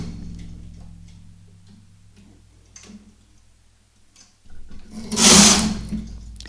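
A domestic knitting machine carriage runs across a row of lace, a steady ticking mechanical rattle that swells into a loud whooshing sweep near the end of the pass.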